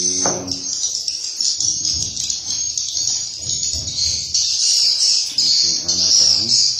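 Swiftlet chicks chirping inside a swiftlet nesting house: a dense, continuous high-pitched twittering chorus, loud and close, with low rustling and handling sounds underneath.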